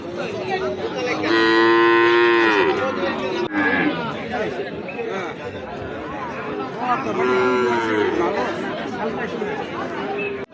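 A bull calf at a busy cattle market gives two long, loud moos a few seconds apart, surrounded by chattering voices and crowd noise.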